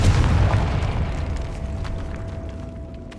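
A Confringo explosive spell goes off in Hogwarts Legacy, a single loud booming blast with a deep rumble that decays over a few seconds, accompanied by a faint lingering tone.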